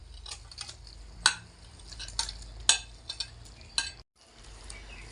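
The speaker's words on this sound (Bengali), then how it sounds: "জুসের মধ্যে পনিরের পিসগুলো একটু হালকা করে নেড়ে চেড়ে নেব।" Fried, charred paneer pieces being stirred in a simmering sauce, a soft bubbling sizzle under a few sharp scrapes and clinks of a utensil against the pan, then a brief silence.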